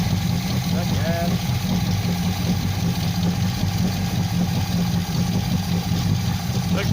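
A G-body Oldsmobile Cutlass Supreme V8 with a freshly rebuilt carburetor and a leaking accelerator pump runs at a steady idle after start-up, a continuous close rumble throughout with faint voices under it.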